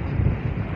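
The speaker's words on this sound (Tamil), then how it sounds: "ஓவரா காத்து ஓவரா அடிக்குது" Strong wind at a beach roars and buffets the microphone in a loud, continuous low rumble that fills the whole moment.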